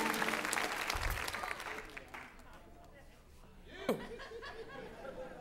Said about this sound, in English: Give that lady a big round of applause